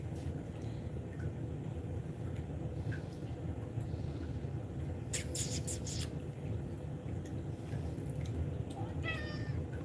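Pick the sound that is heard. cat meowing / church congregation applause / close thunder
cat meowing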